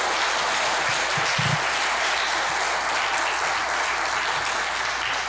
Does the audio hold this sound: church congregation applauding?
yes